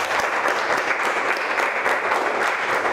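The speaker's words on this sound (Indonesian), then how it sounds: "Tepuk tangan untuk kalian semua." Vocational high school students applauding in a classroom, a continuous, even burst of many hands clapping at close range, filling the room without pause.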